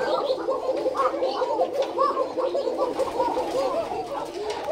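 Pigeons on a pigeon farm coo in a continuous, overlapping, throaty burble, close and moderately loud, with no talking.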